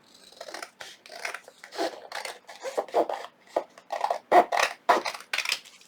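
Scissors trim paper for a homemade file folder in a rapid series of short, crisp snips and cuts, close and fairly quiet, with no voice.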